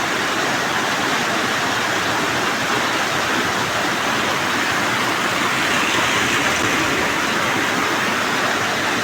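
Heavy monsoon runoff plunges down a rocky waterfall, a loud, constant rushing roar heard up close with no break and no voices.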